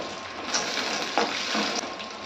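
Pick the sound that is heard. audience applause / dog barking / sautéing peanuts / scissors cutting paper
sautéing peanuts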